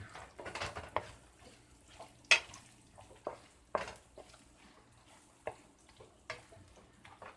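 Pasta puttanesca, a whole bag of pasta, is stirred in a pan on the stove, giving scattered scraping and clinking taps with a soft sizzle underneath, close and moderately loud.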